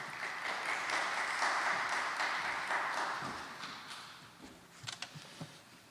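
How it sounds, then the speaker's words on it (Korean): A church men's fellowship audience claps in welcome for a guest speaker, with moderate steady applause that fades out, followed by a few scattered footsteps and small knocks. "나오실 때 박수로 환영해 주셔서 감사하겠습니다."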